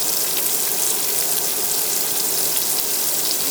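Half an onion browning in an Instant Pot, a loud, dense, continuous sizzle with a bright hiss that stays even throughout, no voices.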